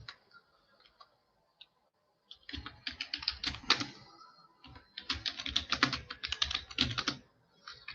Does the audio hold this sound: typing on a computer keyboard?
yes